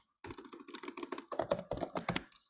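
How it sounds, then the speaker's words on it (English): Rapid, irregular keystrokes on a computer keyboard while typing code for a Python programming lesson, close and crisp, continuing steadily for a couple of seconds with no talk. "just typing the name of your function with the parentheses"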